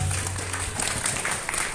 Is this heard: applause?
yes